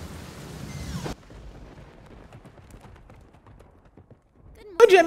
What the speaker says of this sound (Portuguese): Sons de cavalo em desespero.